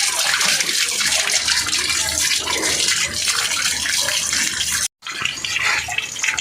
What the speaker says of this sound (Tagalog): drain lang natin hanggat mawala siyang laman ng tubig bago natin ibabalik